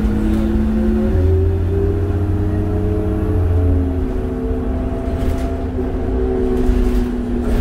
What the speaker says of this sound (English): This bus picks up once you go to second gear